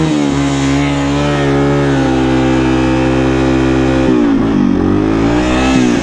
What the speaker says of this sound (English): we can do like a burnout on this bridge